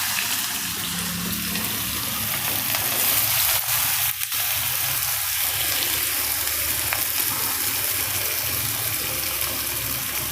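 Onions added to hot oil sizzle steadily for malai kanda nu shaak, a Gujarati onion curry: a loud, dense, continuous frying hiss close by, with no talk.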